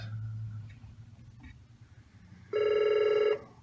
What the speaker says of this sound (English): That phone's ringing, but I can't answer